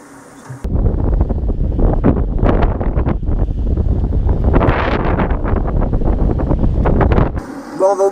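Strong wind at sea buffets the microphone in loud, gusty roars for several seconds, with a faint voice at the start and end.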